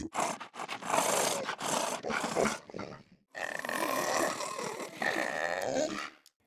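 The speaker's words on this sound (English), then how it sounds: "I created the orc and the hell pig sounds by making garglings. On the pig, I layered the sounds of a dog." Layered monster growls for a hell pig creature, made from wet gargling blended with dog snarls: two long, loud, close bursts of rough grunting and roaring separated by a brief pause.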